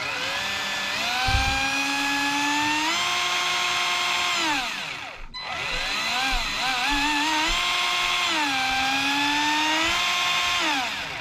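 Electric motor of a Tamiya Super Avante TD4 RC car revved on the bench, a loud whining buzz that climbs in pitch, holds, drops briefly to near silence midway, then winds up again and settles.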